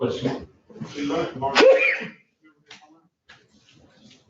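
A single sharp sneeze bursts out mid-conversation during a meeting, loud and close, set between stretches of people talking, followed by quieter scattered noises.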